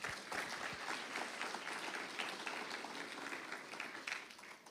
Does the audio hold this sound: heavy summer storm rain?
no